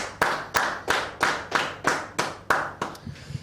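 A small group in a live handball review show audience claps for a woman in a steady, evenly spaced rhythm, about nine crisp claps over a few seconds, close and clear with no talk.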